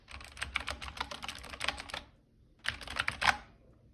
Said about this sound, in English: listen to the sound of this gamer-style keyboard.